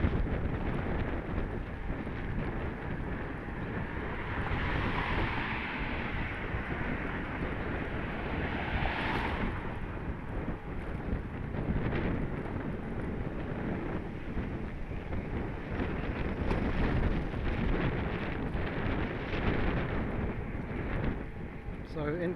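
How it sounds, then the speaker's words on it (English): Strong headwind buffets the microphone while riding a Halfords Carrera e-bike outdoors, a continuous loud roar with gusty swells throughout, and a voice speaks over it at times. "I say I am into quite a strong wind"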